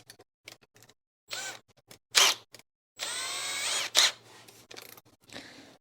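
A power drill fitted with a metal drill bit bores into a guitar body or headstock laid over scrap wood, sounding in short bursts with gaps of near silence and a longer run in the middle.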